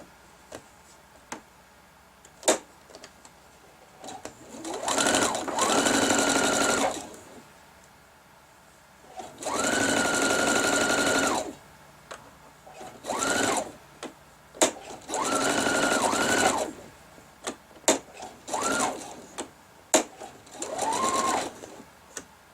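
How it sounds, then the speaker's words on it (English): A sewing machine stitches the last seam of a quilted color-challenge project in several loud, close bursts of steady whirring, with short pauses and small clicks between runs. "All right, let's sew that last seam"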